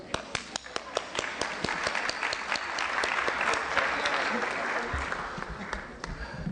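An audience at a World Urban Forum panel session in Colombia claps steadily, a dense patter of hands with a few sharp individual claps standing out near the front, moderately loud and swelling in the middle.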